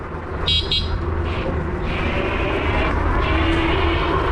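Horn of an electric scooter rewired to a motorcycle horn powered by a separate 18650 battery pack and push button, sounding in short loud blasts over steady road and traffic noise.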